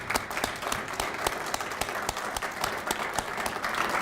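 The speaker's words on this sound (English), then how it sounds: "we should give you two a round of applause for what you have done" An audience at a county citizen-of-the-month ceremony claps in a full, continuous round of applause, crisp individual claps standing out over the dense patter throughout.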